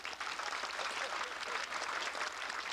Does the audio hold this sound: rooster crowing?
no